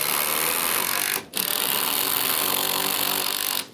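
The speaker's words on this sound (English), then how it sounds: "I'm gonna go ahead and put my fasteners in this side" Power driver running screws into mid-span deck blocking boards, a loud, steady, close whirring that stops briefly partway through before running on and cutting off at the end.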